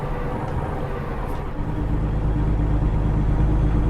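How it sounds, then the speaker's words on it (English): A truck engine in American Truck Simulator over-revs as it works against a hill, a loud, close, continuous rumble that swells and grows heavier toward the end. "But we are really over revving this."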